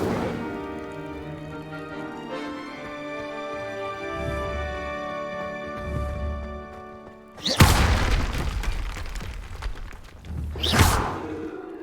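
An Incendio fire spell is cast in Hogwarts Legacy, a sudden loud whooshing burst of flame that roars and fades, followed by a second flaring surge, after a stretch of sustained orchestral music.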